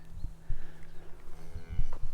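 Cattle on a working farm, with young cows, calves and bulls nearby, give a few low moos and soft grunts spread through the clip. The calls are moderately loud and close, with no speech over them.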